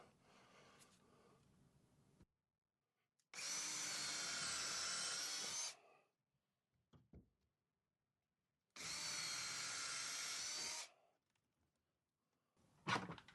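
Two long, loud bursts of a power drill whirring as it drills pilot holes for an overhead garage storage rack, each about two seconds, separated by quiet pauses with small clicks and handling noises.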